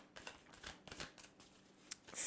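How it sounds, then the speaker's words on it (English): A deck of tarot cards is shuffled by hand, giving a quiet series of soft riffling bursts with brief pauses between them. "I'm going to first of all shuffle this deck several times."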